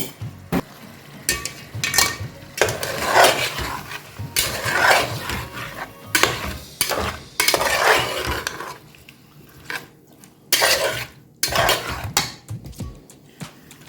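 Chicken pieces fry in a pan with two tablespoons of ginger garlic paste, a steady sizzle broken by repeated scraping and stirring strokes of a utensil against the pan over about fourteen seconds, with no talking.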